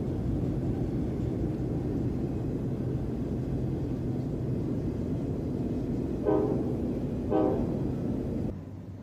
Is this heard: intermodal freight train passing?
yes